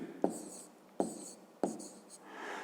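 Numbers are handwritten with a pen on paper in a math exercise: three quick, close scratchy strokes at roughly even intervals, each starting with a tap, in a quiet room.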